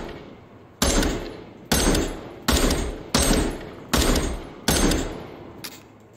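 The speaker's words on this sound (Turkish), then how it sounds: "Şimdi biraz da Gunstock'ta atış yapalım." Six evenly spaced gunshots ring out in a VR shooting game fired with a gunstock, each a sharp, loud bang followed by a short decaying tail, roughly one every 0.8 seconds, with no talk over them.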